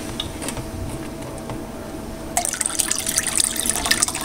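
Distilled vinegar poured into a pan for honey roasted chicken and vegetables, a liquid splashing and trickling sound that starts abruptly partway through and continues steadily after a quieter opening.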